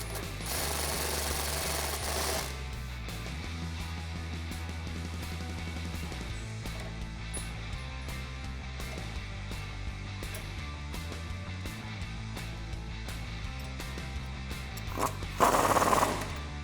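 A 19mm wrench and socket tighten a bolt during a Rough Country 3.25-inch lift kit install on a Jeep Wrangler TJ, giving repeated ratcheting clicks in a steady run with short pauses, ending in a sharper burst of metallic clicking near the end.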